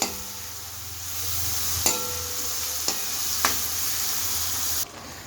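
Green chillies sautéing in a pan for a broad bean and potato sabji, a steady low sizzle with a few sharp spatula clicks against the pan, close and alone until it cuts off near the end.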